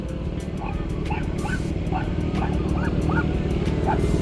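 A puppy yips and barks again and again in short, high bursts over a steady low rumble. The setting is a talk about a CF MOTO 675SS motorcycle.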